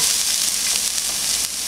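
Sliced boiled eggs hit hot spiced oil in a frying pan with a loud, close, continuous sizzle that holds steady throughout.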